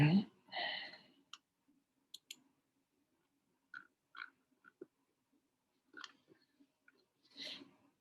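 Mouse clicking on a web page, a few sharp, isolated clicks spread irregularly through a quiet room, with soft low murmuring noises between them.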